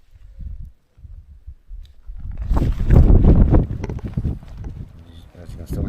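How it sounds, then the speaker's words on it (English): Wind gusting against a tent on a blustery camping trip, a rough, buffeting rumble that swells loudly in the middle and then eases, with some handling noise and a voice briefly nearby. "As you can still hear the wind."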